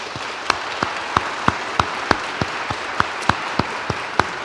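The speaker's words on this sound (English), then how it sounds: "I appreciate your desire to applaud things that you like and candidates you like" A debate audience applauds the candidates with sharp, evenly spaced claps ringing out over a softer bed of scattered clapping for a few seconds.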